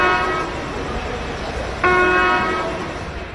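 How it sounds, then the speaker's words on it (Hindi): An Indian Railways locomotive sounds its horn in a loud, sustained harmonic blast, then a second blast starts abruptly and holds over the steady rumble of the train. "दो छोटे हॉर्न का मतलब है कि ट्रेन मेन लाइन पर खड़ी है और गार्ड सिग्नल मांग रहा है"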